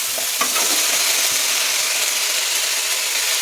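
Cabbage and potatoes fry with spices in a pan, making a loud, continuous sizzle close up with scraping stirring strokes early on and no speech.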